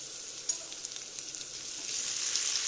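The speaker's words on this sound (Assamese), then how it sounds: "এইকণ এতিয়া অকণমান ভাজি লওঁ কেঁচা গোন্ধটো যোৱালৈকে" Steady sizzling of ginger-garlic paste frying in hot oil with fried onions, close and continuous, with a few soft crackles and no talking.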